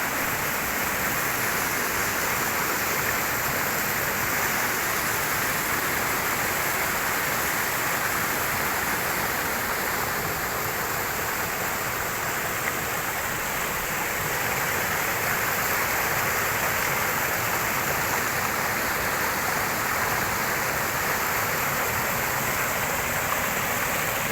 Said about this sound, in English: Yet again, another waterfall going down through those boulders.